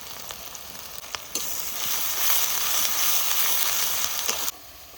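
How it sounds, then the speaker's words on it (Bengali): Chopped onion with salt frying in oil in a village kitchen: a loud, steady sizzle with stirring that starts abruptly after a quiet opening, holds for about three seconds, then cuts off. "এবার পেঁয়াজটা একটু ভেজে নেব।"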